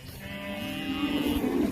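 Anxious cattle on a farm pasture in fall, lowing in a steady, fairly close, drawn-out moo that swells slightly louder toward the end, heard alone with no talking.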